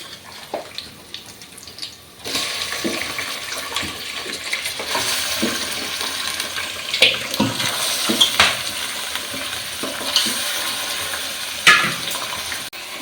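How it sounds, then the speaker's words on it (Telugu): Chicken goes into a pan of softened tomato pieces for a chicken fry, starting with a clattering drop, then a steady wet sizzle broken by scraping stirs and occasional clinks, close by and without speech. "ఇప్పుడు దీంట్లో చికెన్ వేస్తాను"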